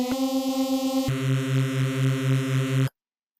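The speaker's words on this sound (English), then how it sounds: "just a standard old school Reese bass sound" Sampled old school Reese bass synth from drum and bass, EQ off, droning with a slow wobbling pulse and a sustained tone that shifts pitch at about one second, then stops abruptly.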